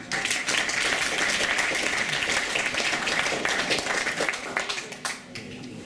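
An audience claps loudly and steadily in a dense wash of applause at a Heritage Night gathering, welcoming a speaker, before it thins and fades out near the end.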